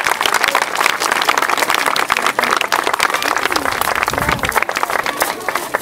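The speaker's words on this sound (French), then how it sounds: "Applaudissez les mousquetaires!" An audience applauds musketeers at a costumed Versailles-style celebration, a lively, uneven burst of many hands clapping that carries on for several seconds, with scattered voices mixed in.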